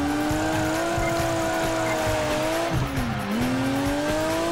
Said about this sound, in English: That's a great drifting right there.